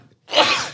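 A single short, breathy sneeze from a person during a podcast conversation, close and fairly loud, bursting out after a brief silence.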